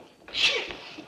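A single sharp sneeze, close and fairly loud, with a quick breathy burst.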